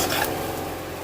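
Vegetable fried rice being stirred with soy sauce in a hot pan or wok, a steady sizzle with scraping stir strokes, loud and close, no talking.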